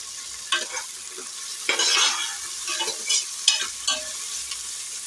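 Tomato rice ingredients sauté in a pot with a steady sizzle, broken by several scraping stirs of a spoon against the pot.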